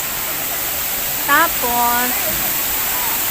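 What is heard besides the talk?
water flowing in a waterfall at a bird park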